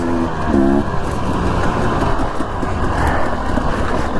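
A 1964 Chevrolet rolls along a dirt trail on a rear tire near zero PSI, producing a steady, loud road rumble and cabin drone throughout.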